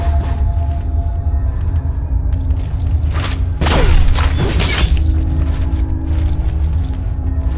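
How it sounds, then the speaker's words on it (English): Glass shatters in the sci-fi action game HellPoint, a sudden bright crash with scattering tinkling shards over a low droning ambient hum, loud and near, followed by a second smaller burst of breaking fragments. "Okay, that's glass."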